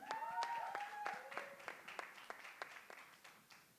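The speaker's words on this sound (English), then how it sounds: "can we have a round of applause once again for our dear friends?" Scattered claps from an audience at an event with the cast of IC 814: The Kandahar Hijack come in a sparse, fairly quiet round, with a brief whistle-like tone near the start.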